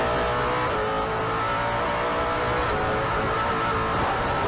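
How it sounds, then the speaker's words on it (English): A 2010 FIA GT1 race car at the Paul Ricard circuit roars at sustained high revs, its loud engine note steady and dense throughout with a hint of tire noise, no voices present. "Let's listen to the engine here."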